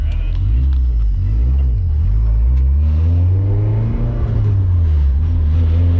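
A loud race car engine rumbles and revs up and down at a track festival, its pitch rising and falling as it accelerates, close and continuous with some talk beneath.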